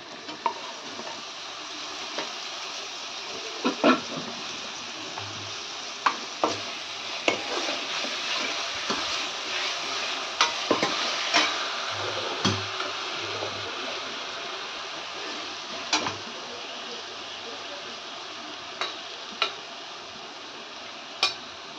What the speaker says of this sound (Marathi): कांदा व्यवस्थित गुलाबी परतून घ्यायचा, म्हणजे छान टेक्स्चर येतं भाजीला